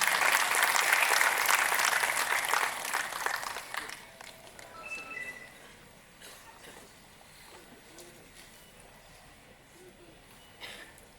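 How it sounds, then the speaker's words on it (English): Enthusiastic audience applause welcoming a guest from the International Coaching Federation at a conference inaugural session: dense, loud clapping for about four seconds that then fades to scattered claps and low hall murmur. "Let us all welcome her with an enthusiastic round of applause."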